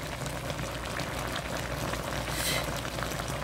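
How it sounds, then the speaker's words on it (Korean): Braised yellow croaker with bracken, onion and gochujang sauce bubbles in a pot, a steady close simmering hiss with a dense crackle of popping bubbles and no voices. "보글보글 잘 끓고 있네요."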